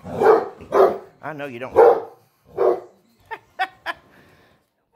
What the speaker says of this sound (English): Your bark may be intimidating, but you're a basset hound